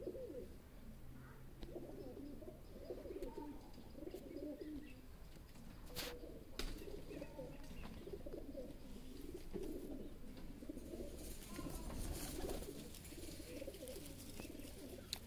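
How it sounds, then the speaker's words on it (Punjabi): A pigeon, one of a prized pair kept by pigeon fanciers in Rawalpindi, coos in repeated low, rolling phrases close by, over a steady murmur of background noise. "ਬੇਹੱਦ ਹੀ ਖੂਬਸੂਰਤ ਕਬੂਤਰ ਇਹ ਆ।"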